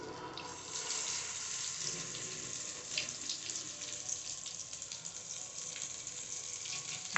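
Masala-coated fish pieces fry in oil, a soft steady sizzle with small crackling pops throughout, fairly quiet and alone.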